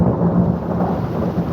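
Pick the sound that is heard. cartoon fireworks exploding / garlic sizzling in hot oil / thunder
thunder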